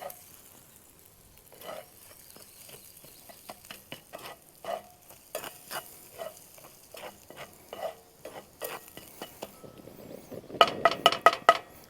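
Chicken fried rice with crushed crackers sizzles in a pan at a camp stove while a utensil scrapes and stirs in irregular strokes, soft and close, with a few sharper metallic clinks at the end.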